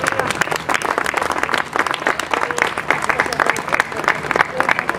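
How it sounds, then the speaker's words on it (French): Audience at a Jewish Pentecost (Shavuot) gathering in Waterloo, Belgium, applauding the Israeli ambassador: dense, steady clapping from a sizeable crowd throughout, close and loud, with some voices mixed in. "Ah oui, il faut l'applaudir."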